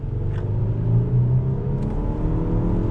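A 2019 Lexus LS 500 luxury sedan engine revving hard under full acceleration, a loud steady rising rumble with a rough growl throughout.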